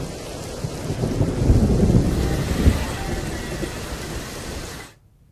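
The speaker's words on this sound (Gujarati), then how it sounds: "અનેક વિસ્તારોમાં પવન સાથે ધોધમાર વરસાદ વરસી રહ્યો છે." Heavy monsoon rain pours down with gusting wind in a Gujarat city, a steady loud roar with deep rumbles of thunder swelling midway before the sound cuts off abruptly.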